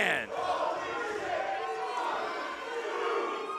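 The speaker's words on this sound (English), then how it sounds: "You talk about a crowd coming alive" A wrestling crowd at an indoor championship show roars and cheers loudly, a dense sustained swell of voices under a commentator speaking over it.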